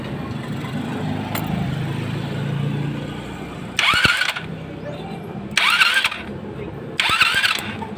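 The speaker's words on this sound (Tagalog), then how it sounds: "Try ko i-start kung magkakaroon ng kuryente." A Motorstar Easyride 150 motorcycle with its electric starter cranking in three short, loud bursts after a stretch of quiet background noise, close to the microphone.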